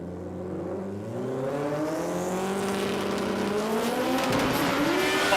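A Subaru Brumby and a rotary-powered Mazda RX3 launch side by side in a drag race, engines climbing through rising revs with layered harmonic whine, tire noise building as both cars accelerate hard and close.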